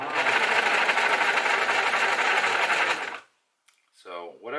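A sewing machine runs fast and steady close by for about three seconds while sewing the back seam of a pair of pants made from scratch, then stops abruptly, and a person begins speaking.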